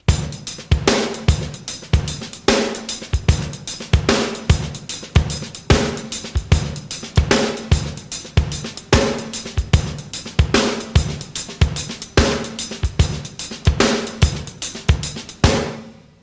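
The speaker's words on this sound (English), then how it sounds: "Now I'm going to add the Bo Diddley shuffle bass drum figure." A full drum kit plays a steady, repeating Bo Diddley shuffle groove with punchy bass drum and snare hits and cymbal ticks, loud and close, no voices.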